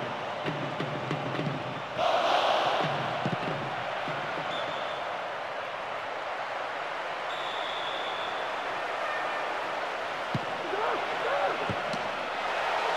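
Stadium crowd in the soccer video game PES 2009 during a Barcelona versus Real Madrid Champions League match, a constant roaring wash of fans under a commentator's voice.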